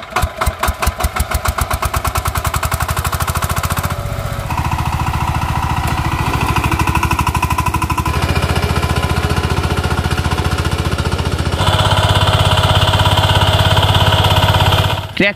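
A tractor engine runs steadily and loud throughout, with a rapid pounding, chugging rhythm at the start that settles into a continuous rumble, shifting in tone a few times as the engine load changes.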